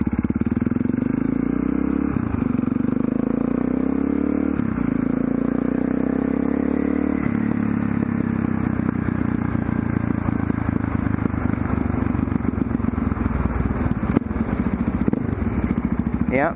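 A motorcycle rides along with its engine running steadily, rising through the gears with clear shifts before settling into a constant rumbling drone, mixed with road rattle and wind buffeting.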